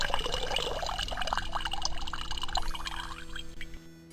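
The Create Water spell in Ravenloft: The Stone Prophet plays as a pouring, splashing water effect that runs for a few seconds over low game background tones and then tapers off.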